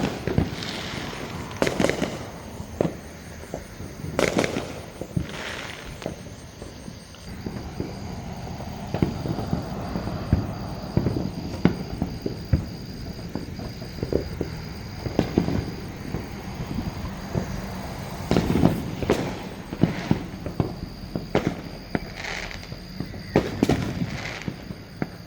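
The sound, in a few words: fireworks going off outside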